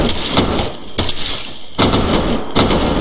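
Gunfire crackles at a military field exercise, with dense bursts of rapid shots coming in two clusters separated by a short lull, loud and close with some echo.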